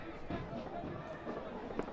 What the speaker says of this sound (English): It's Independence Day, a lot of fireworks.